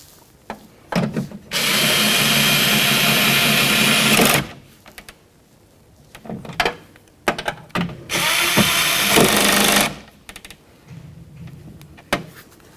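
Two bursts of a power tool drive the window regulator mounting bolts tight on a 2003-2007 Honda Accord, each whirring for a few seconds, with clicks and tool handling between them.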